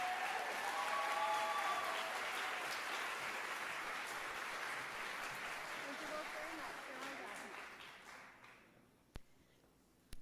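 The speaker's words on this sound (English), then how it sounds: "Let's give her a big round of applause." A convocation audience gives a big round of applause, a broad sustained clapping that gradually thins and fades toward the end, with a few voices and a whistle-like tone early on and sharp clicks as it dies out.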